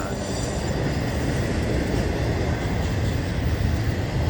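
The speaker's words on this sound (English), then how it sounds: "so this train is going into the siding" A train rumbles past nearby, a steady loud roar of wheels and cars rolling on the rails without pause.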